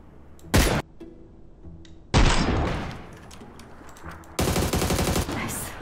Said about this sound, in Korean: 아 AR 잘 쏜다 이 거리를.